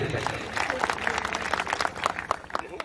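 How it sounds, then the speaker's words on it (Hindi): Audience applause at a Hindi kavi sammelan poetry gathering, a dense steady wash of many hands clapping at moderate volume for the whole stretch, with a voice or two mixed in underneath. "एक बार इनके लिए भी तालियां बजा दीजिए"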